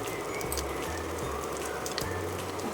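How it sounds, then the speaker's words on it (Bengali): Atta roti frying on a low flame, a soft continuous sizzle and crackle with faint popping, steady and close throughout. "লো ফ্লেমে ভাজতে হবে"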